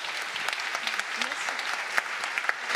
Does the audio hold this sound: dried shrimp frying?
no